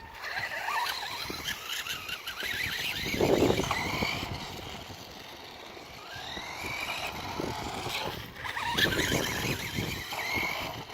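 A restored 1985 RC10 radio-controlled buggy on a small 1300 LiPo battery runs nearby, its electric motor whining and surging in waves, with tires scuffing and brief squeals as it speeds up and slows.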